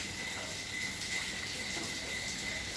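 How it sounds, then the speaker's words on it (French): Crickets chirp in a steady high trill at night in India, layered over a soft continuous hiss of rain, faint and unbroken with no voices. "Je vais vous laisser un petit peu avec le bruit de la pluie"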